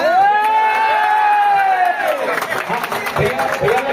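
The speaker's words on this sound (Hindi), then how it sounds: "तालियां, जोरदार तालियां।" At an open meetup for the Chhattisgarhi film 'Dhanesh Ke Aradhana', a crowd cheers and whoops for the film's stars, rising voices giving way to scattered clapping and excited shouts.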